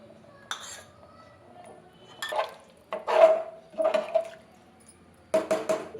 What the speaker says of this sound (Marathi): आता आपल्याला याचा स्वाद वाढवण्यासाठी साजूक तूप घालूया 1 चमचा.